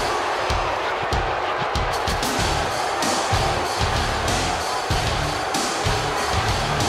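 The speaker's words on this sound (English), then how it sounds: "Would you listen to this crowd?" A packed wrestling arena crowd roars steadily throughout in WWE 2K18, a broad, loud wash of cheering with thumping impacts mixed in, heard during a Stone Cold versus Brock Lesnar match.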